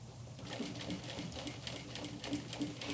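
A sewing machine stitches a folded jeans hem with a quiet, steady, rapid mechanical chatter, heard close up.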